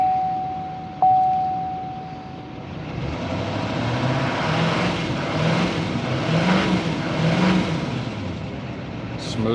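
A 2018 L5P Duramax diesel truck engine cranks, catches and settles into a steady, loud idle with slight revving swells, heard close by.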